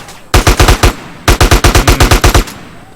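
Two long automatic bursts of machine gun fire from GTA San Andreas, each a rapid, loud string of heavy shots, separated by a short pause with no voices.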